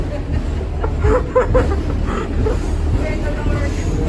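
A New York City subway train rumbles steadily with a low mechanical roar and rattling, near and loud, with people's voices mixed into the underground noise.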